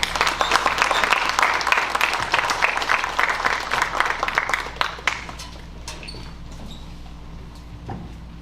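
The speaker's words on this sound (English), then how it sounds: "Please give all of these individuals a round of applause." Audience applause at a high school FFA banquet in Kentucky, loud and dense for about five seconds, then thinning to scattered claps and fading out.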